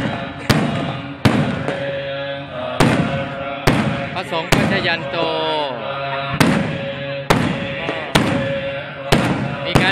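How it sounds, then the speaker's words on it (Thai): Fireworks go off in daylight at the opening of a Thai temple festival honouring a pagoda relic, loud sharp bangs bursting at irregular intervals amid crowd noise, with someone speaking Thai in between. "มีการจุดพลุนะครับแต่ว่ามันไม่เห็นแสงอะไรเพราะมันยังหัววันอยู่ได้ยินแต่เสียงนะครับ"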